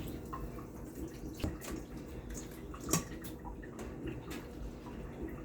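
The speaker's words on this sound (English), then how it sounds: "One more time, we rinse." Beef being rinsed under a running tap for Jamaican peppered steak, with a continuous, fairly faint stream of water and a few soft splashes and handling knocks, without speech.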